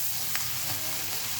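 Chopped onions with a pinch of salt sizzle in a hot pan, a steady close hiss of frying with a faint tick from stirring.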